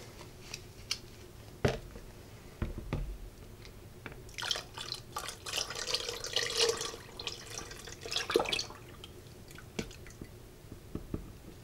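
Lye water is poured into a soap-making mixture that already holds grapefruit Bellini fragrance oil. A soft liquid stream swells in the middle between scattered drips and clicks, close and fairly faint, with no talk.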